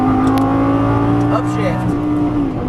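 A Lamborghini Gallardo LP550-2 engine pulls hard at full throttle on a track, a loud, close, sustained high-pitched roar rising in revs, under a voice giving driving instructions.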